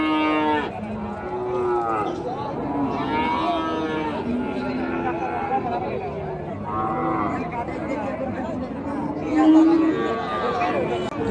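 Friesian cows and calves moo repeatedly at a busy cattle market. The long, overlapping calls rise and fall over constant crowd chatter and people talking nearby.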